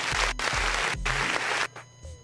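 Dense clapping, loud and close, laid over a sound-effect bed in a comedic rant, the claps rising and falling in bursts before dropping away near the end.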